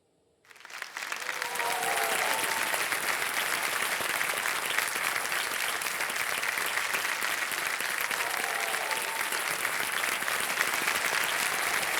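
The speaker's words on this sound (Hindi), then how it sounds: "ये ताली आपके लिए बजाई जा रही है" Studio audience applause on the TV quiz show KBC Under 25, starting abruptly after a brief silence and holding as dense, sustained clapping, with faint voices showing briefly underneath.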